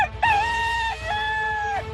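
A Kadaknath rooster crows loudly and close, a drawn-out rising-then-holding call that dips briefly and carries on, with a faint low background noise beneath.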